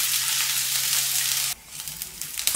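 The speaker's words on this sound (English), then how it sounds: "I sauteed the onions to make the waffles." Onions sauté in a hot pan with a steady, close sizzle that drops off sharply partway through, then a quieter frying crackle with a few stirring clatters.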